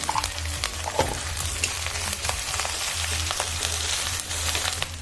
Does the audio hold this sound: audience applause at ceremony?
no